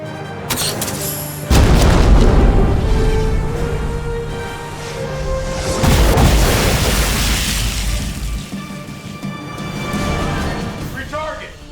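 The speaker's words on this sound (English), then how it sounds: "Fire the main gun!" Battleship main guns fire in a space battle video game against an alien armada: two heavy, deep booms about four seconds apart, each with a long rumbling tail over a dense game soundscape.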